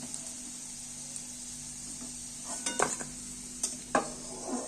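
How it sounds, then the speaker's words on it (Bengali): Fried potatoes are lifted out of hot oil, a low steady sizzle punctuated by a cluster of metal spatula clinks and scrapes toward the end, nearby and quiet, with no talking. "এইবার আমি আলুগুলো তেল থেকে তুলে নিচ্ছি"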